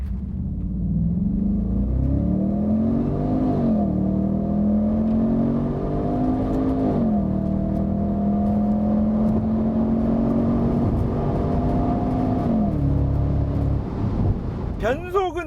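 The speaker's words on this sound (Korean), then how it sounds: "이 풀 가속대 기어 단수랑 뭐 RPM 움직이는 거 사운드를 한번 잘 보고 들어보세요." A roughly twenty-year-old Audi RS6 with a five-speed gearbox pulls hard at full throttle, its engine note climbing steadily in pitch, dropping at each of several upshifts, then climbing again. The loud, continuous drone holds throughout.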